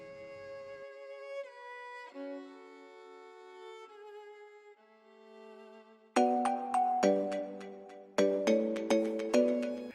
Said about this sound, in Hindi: मामा शमीर खान जी फोन